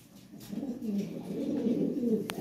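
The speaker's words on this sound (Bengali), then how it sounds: "এটা হলো একটা বাচ্চা কবুতর" A young Lahori pigeon coos softly, a low throaty murmur swelling over a couple of seconds close by, with a faint click near the end and no speech.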